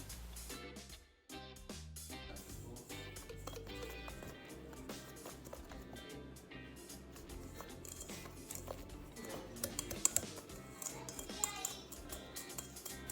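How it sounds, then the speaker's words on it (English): A whisk stirring flour, white sugar, baking soda and baking powder together in a bowl for vegan guava cupcakes, giving quick rhythmic clicking and scraping strokes at close range. "Mix it all up with a whisk to make sure there's no clumps in the flour."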